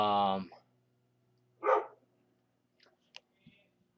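A dog barks once at moderate distance after a brief bit of speech, followed by a few faint clicks and small sounds in an otherwise quiet room.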